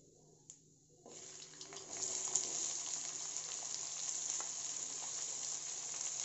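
Chopped medium onions drop into a pan of hot oil with cumin and start frying, breaking into a steady bright sizzle after a quiet start, heard close and alone.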